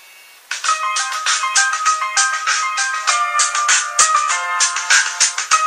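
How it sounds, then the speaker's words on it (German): A phone ringtone plays a bright, melodic electronic tune, starting abruptly after a brief quiet moment and continuing steadily and loudly with a repeating rhythmic pattern, with no talking. "Wie hört sich dein Klingelton an?"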